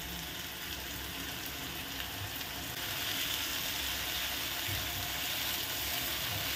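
Chopped tomato and ginger-garlic paste frying with browned onion in a pan, a continuous crackling sizzle that swells slightly partway through, alone without talk.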